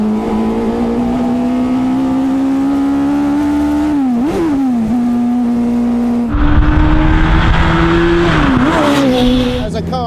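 A Light Car Company Rocket, a very light open car, is driven hard with a loud, high-revving engine whining through rising and dipping revs across gear changes, with heavy wind buffeting and a person talking over it.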